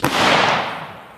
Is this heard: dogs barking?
no